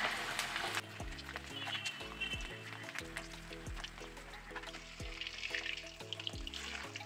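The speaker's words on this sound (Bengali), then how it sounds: "এবার আমি বলগুলো একটা একটা করে ছাড়বো।" Potato vegetable balls dropped one at a time into hot oil, a steady bubbling sizzle punctuated by repeated soft knocks and thuds, moderately quiet and close.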